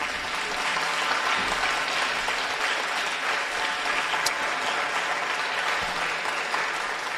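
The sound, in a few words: audience applause after a lecture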